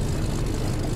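In The Crew 2, a propeller airplane drones steadily overhead, a loud, continuous low buzz of engine and airscrew with no break.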